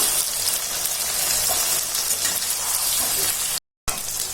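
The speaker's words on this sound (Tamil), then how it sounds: "கத்திரிக்காய் போட்டு வதக்கிக்கணுங்க." Brinjal sautéing in oil with onion and garlic gives a steady, close sizzle that fills the whole stretch without a break, apart from a short silent gap near the end.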